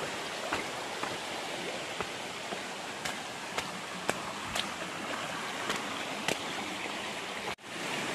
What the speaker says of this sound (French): Et vu comme c'est agréable avec le bruit de la rivière.